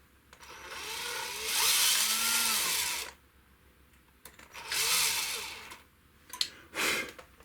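A power drill whines in three bursts, two longer runs and a short final one, with quiet gaps between them.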